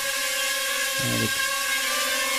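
A small drone hovers with a steady high-pitched whir of propellers, its pitch briefly shifting midway as it changes motion, close by and without talk.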